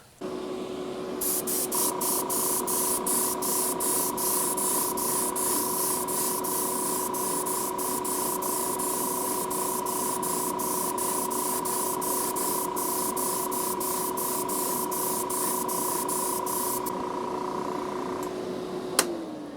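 Spray gun applying thin coats of Quicksilver paint over gloss black on a 1950 Mercury, a steady close hiss lasting the whole time with a faint high tone underneath.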